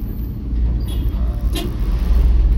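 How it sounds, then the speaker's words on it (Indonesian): A truck passing on a village road through Kalikowel, between Wadaslintang and Kaliwiro at night, a steady low engine rumble and road roar that swells near the end with a brief brake hiss. "papasan sama truk."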